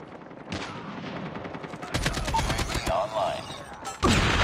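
Rapid automatic gunfire in Call of Duty Mobile, AK-47 bursts rattling in quick repeated volleys, loud and close, with game sounds layered over the shots.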